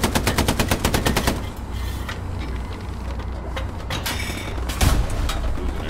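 A British tank in Hell Let Loose fires a loud, rapid machine-gun burst with evenly spaced shots. Rumbling engine and battle noise follow, then a heavy boom near the end.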